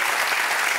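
An audience at a live stage show applauding, a dense steady wash of clapping, loud and continuous throughout with no other sounds.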